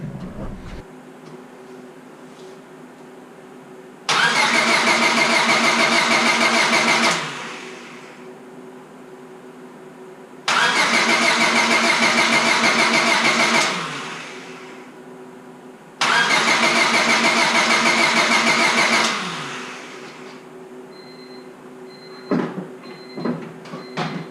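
A Honda Civic Si engine with a new distributor cap and rotor cranks over in three long starter bursts of several seconds each, separated by quiet pauses, whirring loudly nearby without ever firing.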